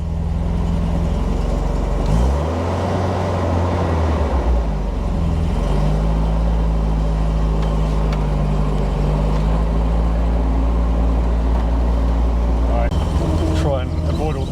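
A 1981 Triumph TR7 convertible with a sticky throttle and high clutch pulls away and drives along a seafront, its loud steady engine drone and road rumble shifting pitch as it moves off, with people talking over it.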